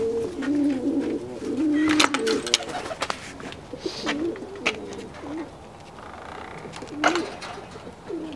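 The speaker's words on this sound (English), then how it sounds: "Pigeons." Pigeons coo near the microphone in a garden, repeated soft rolling calls with a few brief knocks and rustles, and a person speaks quietly now and then.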